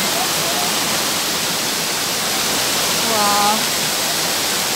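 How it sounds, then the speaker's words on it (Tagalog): Waterfalls in a park roar as a dense, steady wash of falling water, loud and continuous, while a person briefly exclaims over it. "So, maraming falls, ano?"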